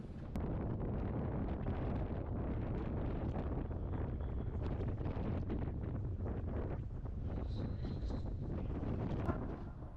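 A cruise ship sails away from Nassau, Bahamas, with steady wind roaring and buffeting across the microphone, masking a low, continuous rumble of the vessel; no one speaks.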